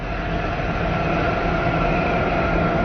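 A steady, dense rumble of a train in motion, heard as a continuous loud roar of wheels and carriage noise with no breaks and no voices.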